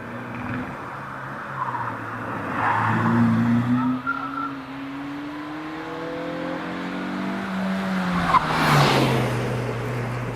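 Race car at the Prescott hillclimb, a British Championship event, engine rising and falling through gear changes with tyres squealing as it rounds a corner, loud and fairly close, with no talk.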